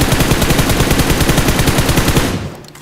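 Rapid automatic gunfire from a gun in PUBG Mobile rattles loud and close in a sustained burst of evenly spaced shots, then cuts off near the end.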